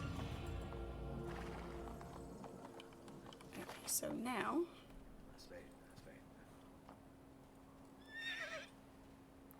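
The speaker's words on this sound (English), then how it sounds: "apparently we're taking this horse now" A horse neighs loudly in Assassin's Creed 2, one whinny midway and a shorter one near the end, with hoofbeats and low game ambience underneath. A voice speaks briefly at the start.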